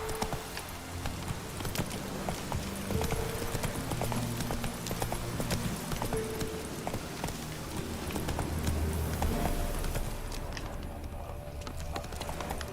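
Hooves of Roach, a horse in The Witcher 3: Wild Hunt, clip-clop at a steady gallop throughout, close and continuous under game music, with no talking.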